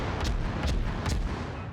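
Warship guns firing in a naval combat video game, heavy booming salvos repeating several times in quick succession, loud and close, with no talking.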